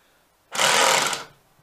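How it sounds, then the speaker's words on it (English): A power drill driving a screw into a plate whirs in a single short burst of just under a second, loud and close, rising sharply and then tapering off. "So drilling, hear that?"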